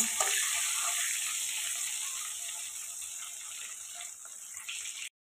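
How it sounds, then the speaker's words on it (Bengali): A steady sizzling hiss of eggs frying in hot oil, fading slightly before a brief cut near the end. "ডিমগুলোকে লাল লাল করে ভাজা করে নিতে হবে।"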